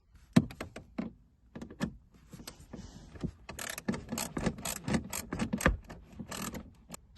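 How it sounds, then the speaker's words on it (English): Bolts are worked out of the dash of a 2011 Mustang during a radio install, producing a series of sharp ratcheting clicks and thunks that start sparse and then speed up into a busy run of mechanical rattles, close by and with no talking. "So we're gonna remove these two bolts and get them out there."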